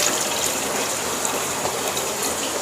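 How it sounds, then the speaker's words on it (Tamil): About half a litre of water is poured into a cooking pot while making mutanjan sweet rice, a steady splashing gush that runs unbroken for a few seconds. "இப்போ கொஞ்சம் தண்ணி ஊற்றிக்கலாம்."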